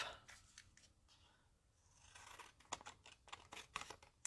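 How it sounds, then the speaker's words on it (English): Scissors snipping small pieces off decorative designer paper for hexagon punch-card crafting, a run of quick close cuts and crisp paper rustles at a low, intimate level. "What I'm going to do is snip off"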